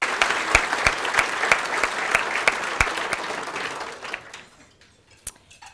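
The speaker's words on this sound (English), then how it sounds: "So please give them a round of applause." Audience applause at an award ceremony for public service, a dense burst of close clapping that carries for about four seconds and then thins into a few scattered claps.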